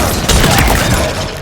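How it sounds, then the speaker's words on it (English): A shotgun-type weapon fires in a Halo Infinite multiplayer match, producing a loud, dense blast of noise that sustains briefly with rough crackling texture. "I found this shotgun type of weapon that literally disintegrates enemies when you kill them with it."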